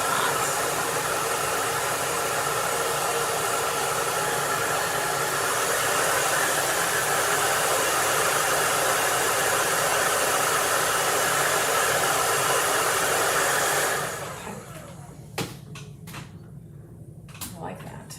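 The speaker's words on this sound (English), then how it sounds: "Just blowing it off to the side because my hairdryer is, I have it on low." A hair dryer set on low blows a steady, loud broadband rush for about fourteen seconds, then shuts off, leaving a quieter room with a few faint knocks.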